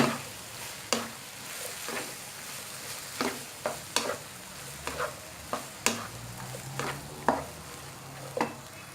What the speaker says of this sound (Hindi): अब इसका फ्लेम हम इसका स्लो कर देंगे। इसमें मैक्रोनी ऐड कर दूंगी। इसको अच्छी तरह मिक्स कर लें।